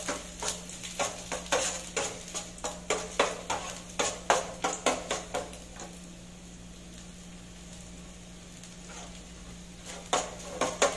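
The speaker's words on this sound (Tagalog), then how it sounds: "unahin natin ang ilagay yung garlic since mainit na yung oil natin" Garlic goes into hot oil for sautéed okra, with a quiet sizzle under repeated rhythmic scraping and stirring of a utensil in the pan.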